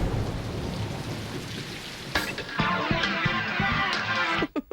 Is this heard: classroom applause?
no